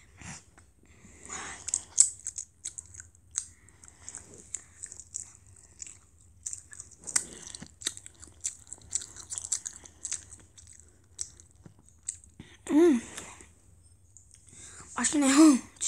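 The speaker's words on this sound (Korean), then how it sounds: "이거 샐러드에 있는 치즈를 ASMR 해보겠습니다" Cheese from a salad is bitten and chewed close to the microphone, with scattered crisp mouth clicks and soft crunches spread across the stretch, and a voice briefly speaks near the end.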